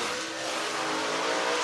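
A race car roars past at close range on the track at Whynot Motorsports Park in Meridian, Mississippi, a loud, continuous engine howl filling the moment.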